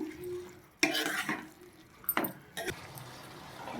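Capsicum pieces being stirred into a tomato masala curry in a pan, with a few sharp scrapes and clinks of the spoon against the metal over a soft sizzle, close and alone.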